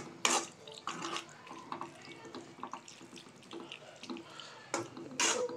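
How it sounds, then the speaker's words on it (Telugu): Water is poured into a pan of bitter gourd masala curry on the stove, an uneven splashing and trickling in short bursts, fairly faint and close. "మొత్తం మీకు తగినంత వాటర్ పోసుకోండి"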